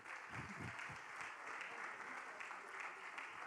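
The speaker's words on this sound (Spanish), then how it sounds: "Dale un aplauso al Señor" A church congregation claps together in praise, a broad steady wash of applause at moderate distance that holds evenly for a few seconds, with a few voices mixed in beneath it.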